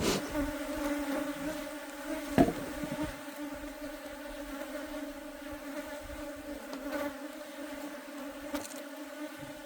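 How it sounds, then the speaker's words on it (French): Bees buzzing steadily at a hive in an apiary during a September inspection, a dense continuous drone close to the listener with one brief louder knock partway through, no voices. "Les abeilles les plus agressives d'ici."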